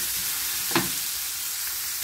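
Garlic, ginger and onion sauté in a pan for a vegetable and meat stew: an even, close hiss of frying oil with one brief scrape of stirring partway through.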